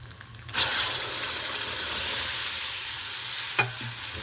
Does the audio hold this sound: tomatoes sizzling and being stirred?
yes